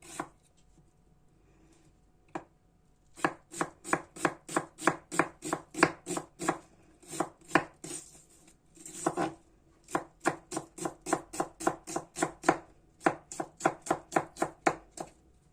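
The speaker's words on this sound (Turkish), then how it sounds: "Soğanımız da aynı şekilde biraz böyle ince ince doğrayacağız." Onion being finely chopped with a knife on a board for a roasted eggplant salad, a quick run of crisp, evenly spaced taps in bursts with short pauses between, close and clear with no talk.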